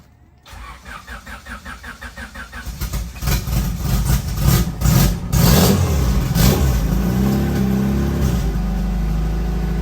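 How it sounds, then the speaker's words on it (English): A 2008 Honda Civic Mugen Si engine cold starts: a rapid rhythmic starter crank, then the engine catches and flares loudly before settling into a steady, lumpy idle close by. "We about to do a cold start real quick."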